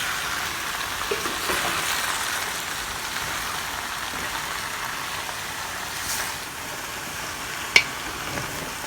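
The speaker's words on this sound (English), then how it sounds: "Let them get a good browning." Oxtail and short ribs browning in a pot with onions, a continuous soft sizzle with occasional stirring scrapes and one sharp clink near the end.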